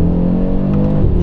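An Audi RS3 engine revs hard under acceleration, a brief, loud, deep engine roar from inside the car with no break.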